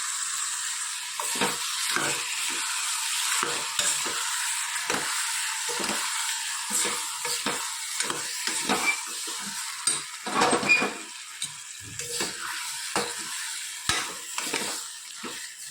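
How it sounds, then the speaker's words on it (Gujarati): Vegetables with spices stirred in a small pressure cooker give a soft continuous sizzle broken by repeated scraping strokes of a spoon against the metal, close and steady. "સરસ બધું મિક્સ કરી લઈએ."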